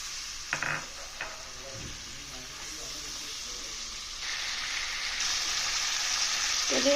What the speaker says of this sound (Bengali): মাছ ভাজি হয়েছে উঠিয়ে নেব